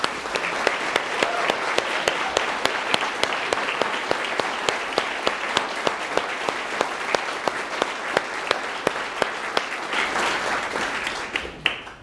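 A large concert audience claps hard and steadily at an Easter final concert, a dense, loud roll of applause that carries on for about twelve seconds before cutting off abruptly.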